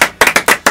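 At the close of a band's live studio session, several sharp, loud hand claps ring out in quick succession, close by, in a rough rhythm.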